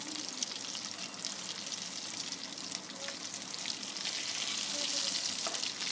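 Crispy potato tikki patties fry in oil in a pan, producing a continuous dense hiss and crackle like light rain, steady and near throughout, with no speech.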